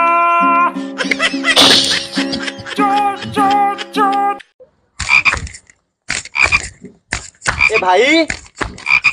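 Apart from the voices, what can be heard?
frog croaking sound effect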